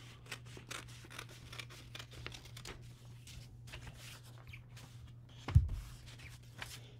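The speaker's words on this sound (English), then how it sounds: "We'll cut along the fold." Scissors snip through folded paper in a run of quick, quiet cuts, close and crisp over a low hum, with one louder thump near the end.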